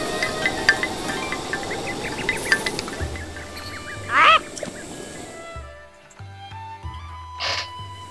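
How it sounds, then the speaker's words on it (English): A cucco (chicken) in the video game The Legend of Zelda: Breath of the Wild gives two short squawking clucks, a few seconds apart, over soft game music and ambience. "You made me lose the chicken."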